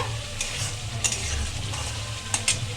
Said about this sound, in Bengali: এগুলো দিয়ে আমি ভালো করে মশলাটাকে কষিয়ে নেব